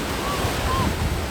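Sea waves break and wash onto the shore at Kaliningrad, a continuous loud surging roar mixed with wind buffeting the microphone.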